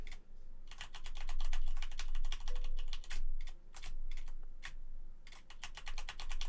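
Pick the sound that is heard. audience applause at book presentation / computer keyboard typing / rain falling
computer keyboard typing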